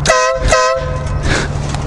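Compact motorcycle air horn on a Hyosung GV650, two short blasts close by, loud and brassy, followed by a longer burst with rustling.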